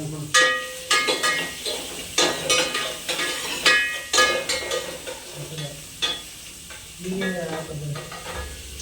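Egg frying in a pan is stirred with quick, rhythmic metal scrapes over a steady sizzle, the strokes loud and close, easing into softer frying toward the end.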